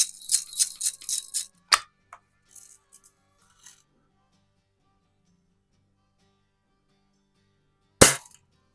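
Crosman Hunter Hank BB gun fired at a can, a cluster of sharp clicks and rattles at first, then sparse faint ticks and a single loud sharp snap near the end, otherwise quiet.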